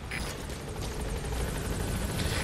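A helicopter in Metal Gear Solid 5 drones steadily with a thrumming rotor and engine roar, loud and constant, with no voices over it.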